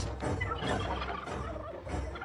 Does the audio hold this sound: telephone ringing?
no